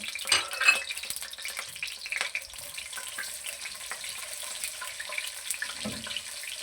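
White cumin seeds frying in about 120 grams of oil for a pumpkin dish give a soft, steady crackle and hiss with a few louder pops near the start, close and fairly quiet, with no talk.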